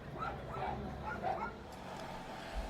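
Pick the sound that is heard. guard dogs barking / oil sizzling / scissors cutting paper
guard dogs barking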